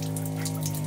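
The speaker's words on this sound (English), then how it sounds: "and we have running water" Steady running water from the small pump in a renovated vintage Scamp trailer, a continuous close hiss with a low constant hum beneath, no talk.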